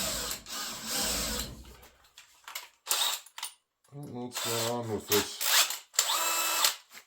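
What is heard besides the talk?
power drill drilling holes in sheet metal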